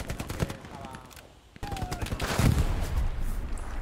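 Machine-gun fire in the World War II shooter Hell Let Loose, a dense burst of rapid shots that starts loud, fades out, then returns stronger and continuous, with nearby talk mixed in.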